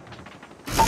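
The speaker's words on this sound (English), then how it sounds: "Sentry gun deployed." A sentry gun deploying in the game Call of Duty Mobile: a sudden, loud mechanical clatter and whir that bursts in near the end of a very short moment, after quieter game sounds.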